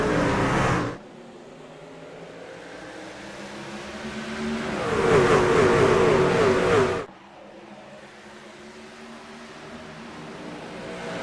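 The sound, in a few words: race cars accelerating at green flag in the iRacing video game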